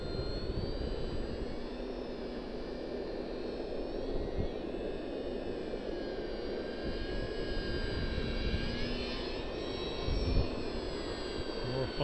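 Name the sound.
Parkzone VisionAire RC model airplane flying low on a windy day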